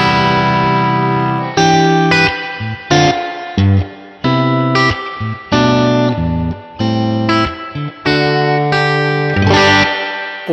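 Loud electric guitar through a distortion pedal and UAFX Dream amp with line output and reverb, heavy distortion, chords struck in bursts with brief gaps, sustained tones ringing out, no voices.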